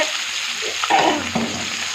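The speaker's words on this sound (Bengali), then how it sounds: "আর আমি মাছটা বেশি তো ভাজবো না, বেশি ভাজলে আবার শক্ত হয়ে যাবে" Fish frying in oil in a kadai, a close, even hiss of sizzling with a couple of soft scraping movements, alone without talk.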